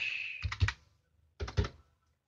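Typing on a computer keyboard, two quick bursts of three or four close, crisp key clicks separated by a brief pause, alone and near.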